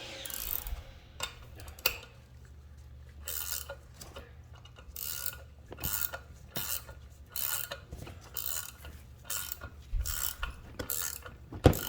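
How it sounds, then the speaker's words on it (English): A ratchet wrench worked on a 5.3 engine during a rebuild, with bursts of rapid ratcheting clicks repeating in strokes, separated by short pauses and occasional metallic knocks, close and clear. "Take your wrench."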